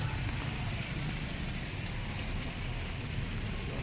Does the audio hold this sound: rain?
yes